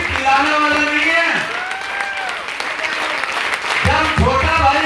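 A hall audience at a Happy Health India success leader event in Bijnor applauds steadily throughout, with a voice speaking over the clapping.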